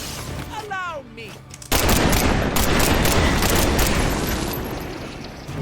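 Deadpool's Mag Dump in the video game Marvel's Midnight Suns: after a short whooshing windup, a sudden loud, sustained rapid burst of gunfire roars for several seconds and trails off slightly toward the end.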